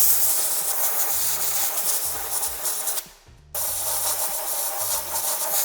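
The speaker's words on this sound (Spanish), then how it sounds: "Primero ablando un poco el barro y después con la ayuda del aire lo limpio." Compressed air blows mud off the hitch bolt holes underneath a Toyota Land Cruiser 150, a loud, continuous close hiss broken by a brief pause before resuming.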